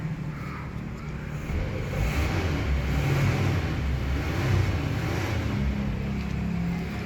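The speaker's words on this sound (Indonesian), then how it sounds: "kita langsung aja nih geber-geber mesinnya" A budget used family car's engine is revved repeatedly in the morning, a rough low rumble rising and falling in swells, close by and steady with no voices over it.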